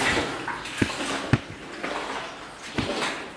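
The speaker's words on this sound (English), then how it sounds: "See the water's kind of flowing pretty good out." Water runs steadily out of a tunnel in the abandoned Winlock Mine in Washington, a broad hiss under the echoing space, broken by a few sharp knocks or footsteps.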